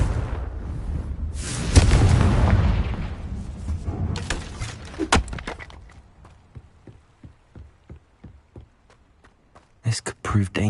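A Confringo fire spell explodes in Hogwarts Legacy, a loud booming blast with a long rumbling tail, then a string of scattered crackling pops fading out before a few sharp bursts return.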